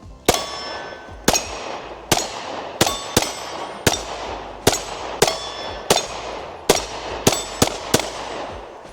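Pistol shots ring out at a range, a string of about thirteen loud, sharp reports with metallic ringing tails, spaced irregularly, some in quick pairs, comparing a Springfield Hellcat and a Smith & Wesson Shield X.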